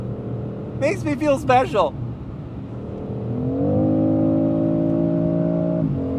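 A 2025 BMW X3 M50 SUV engine accelerates hard, a smooth rising turbocharged drone that swells and holds loud inside the cabin, after a brief spoken line from the driver.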